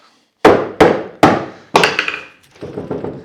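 Iron holdfast tapped down onto a wooden woodworking bench: three sharp, loud knocks in quick succession, then a heavier blow with a ringing tail and softer follow-up taps, close by with no talk.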